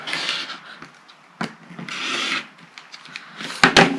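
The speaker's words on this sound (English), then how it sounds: "I trim off this one corner and make it nice and even because that'll be my starting point" Trimming a fabric corner for a Blueberry Pie quilt block with a ruler and cutter, giving close scraping and rubbing strokes against the cutting surface, with a couple of soft knocks and a sharper clack at the end.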